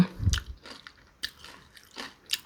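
Crunchy bites into deep-fried crab, close and crisp, with several sharp crackling bursts spaced through the moment and no talking.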